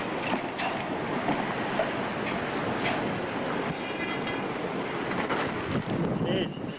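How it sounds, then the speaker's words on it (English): Hurricane Georges wind roars in a steady, dense rush past a storm-damaged storefront, with debris blowing around and scattered brief clatters rising from the gusting noise; faint voices may sit beneath it. "Jeez, you just hear stuff flying around still."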